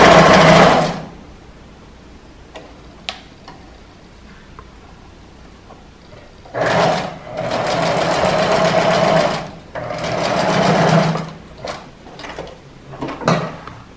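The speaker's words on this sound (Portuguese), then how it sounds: "Vou costurar aqui no meio." Home sewing machine stitching through fabric, starting with a loud run, pausing, then two longer steady bursts of motor whir with clicks and small mechanical taps in between.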